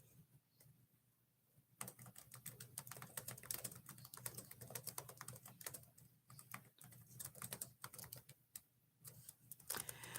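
Rapid, uneven clicking of a computer keyboard close by, starting softly and then turning into a dense burst of keystrokes with brief pauses, no speech.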